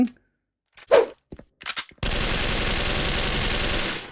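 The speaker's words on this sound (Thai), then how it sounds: "เพื่อนผมยิงเองเกือบหมดแม็กเลยอะ่ะ" An ICE FALCON gun in the video game Special Force fires a loud, sustained burst of rapid automatic gunfire lasting about two seconds, preceded by a few short, scattered clicks and thumps.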